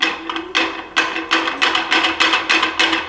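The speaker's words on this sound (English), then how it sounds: "That's just the wheel noise." A Katool wheel balancer spins a steel wheel built from two thin clamped steel pieces, giving a loud, steady rhythmic knocking roughly twice a second over a continuous rushing whir.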